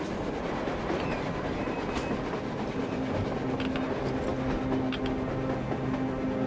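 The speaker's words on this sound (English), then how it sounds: "A train! A damn train on the surface!" A train running on the surface in the Metro Exodus video game rumbles steadily with rolling wheel noise, faint rhythmic clacks and a thin squeal partway through, heard continuously from start to finish.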